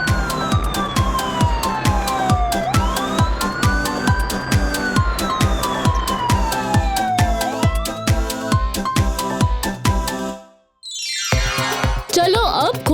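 An ambulance siren in a children's cartoon wails up and down in long sweeping tones over a steady rhythmic music beat, loud throughout, breaking off briefly near the end before a bright flourish.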